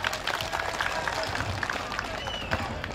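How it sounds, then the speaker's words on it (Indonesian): An audience at a gathering honoring boxer Ellyas Pical claps and cheers, lively crowd applause with a murmur of voices and some low rumble underneath. "kita berikan tepuk tangan dulu yang meriah"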